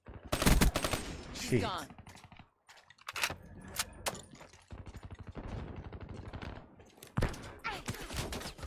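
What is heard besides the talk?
gunfire in a video game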